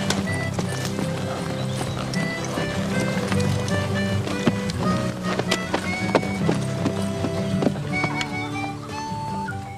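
Horse hooves clip-clopping at a slow, steady walk during a Wild West trail ride, with regular hoof beats under a busy musical backing track throughout.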